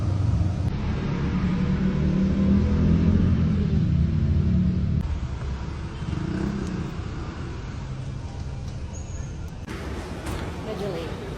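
Steady low rumble of road traffic heard from inside a car in congested city driving, a continuous engine drone with a person talking over it.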